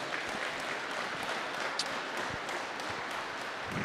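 A steady, faint wash of applause from a distant crowd at a curling event, even and continuous throughout, with no talking over it.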